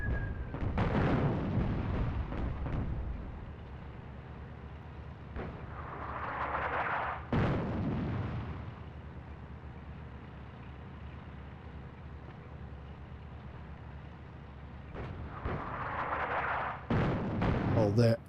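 Tank cannon fire and explosions from a North Africa WWII real-time strategy game, where German panzers fire on the player's units: several heavy, booming blasts spaced seconds apart over a low battlefield rumble, with someone talking in places.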